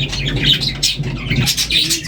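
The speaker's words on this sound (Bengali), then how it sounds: "দেখো বদ্রি পাখি আছে" Budgerigars at a resort in Simlipal, Odisha, chattering in a continuous close run of bright warbling chirps and squawks.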